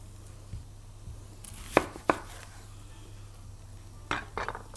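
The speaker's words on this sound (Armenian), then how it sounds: "ծեր սիրած սոխը կտրատենք։" An onion chopped with a knife on a board for a halloumi salad: a few sharp, close knocks spaced irregularly over a steady low hum, with no talk.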